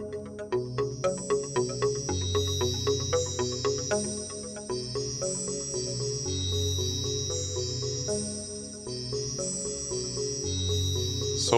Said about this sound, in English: So it adds a metallic ringing after each note.